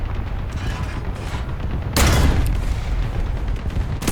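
The main gun of a Chi-Nu II tank fires in War Thunder with a single sharp, heavy boom about halfway through. A low rumble of engine and battle noise runs before and after.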